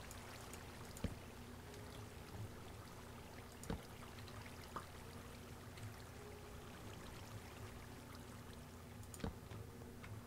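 Flowing water in Minecraft, a faint steady stream with occasional soft ticks and clicks, no voices.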